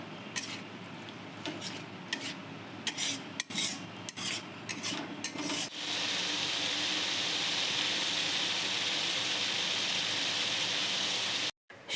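Ground spices with turmeric, salt and a little chili powder are stir-fried in oil in a pan for chicken. A spatula clinks and scrapes against the pan at first, then a steady, loud sizzle takes over.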